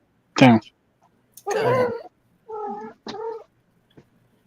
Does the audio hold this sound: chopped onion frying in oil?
no